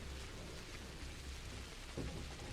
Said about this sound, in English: Now I don't have to listen to the rain pattering down in my ears.